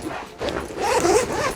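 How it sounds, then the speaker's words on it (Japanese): A 360-degree zipper on a large everyday backpack is pulled open close by, giving a brief rasping run of about a second with no talking. "360度ジッパーを開けて"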